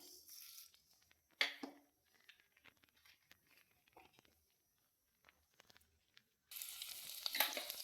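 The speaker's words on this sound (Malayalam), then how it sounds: "കടുക് ഇട്ട് കൊടുക്കാം." Mustard seeds are tossed into hot oil in a pan, giving brief bursts of sizzle and scattered pops amid near quiet, then a loud dense crackle near the end.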